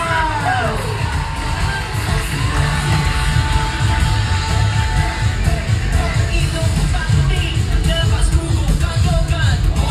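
A large crowd cheers and yells loudly and continuously at a civic street parade during a town festival celebration in Pasig City, a dense roar of voices with whoops rising over steady background noise and music throughout.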